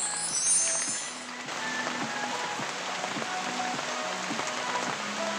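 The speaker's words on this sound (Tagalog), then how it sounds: "Pasok tayo, maulan." Rain falls steadily in a mountain setting, a soft continuous patter on surfaces, fairly faint and unbroken, with occasional light clinks mixed in.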